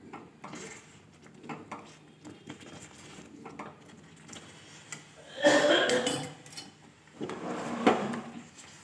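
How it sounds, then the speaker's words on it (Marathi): Sorghum papad batter being stirred in a small pot with a spoon, giving scattered knocks and scraping clatters against the metal, with two louder bursts of stirring near the end, alone without talk. "पूर्ण बॅटरला उकळी येऊस तर आपल्याला असंच हलवत राहायचं"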